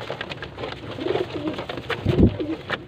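Pigeons cooing nearby at a bird seller's in Faisalabad, soft repeated throaty coos in short phrases, one louder burst near the end, with faint background noise and no talking.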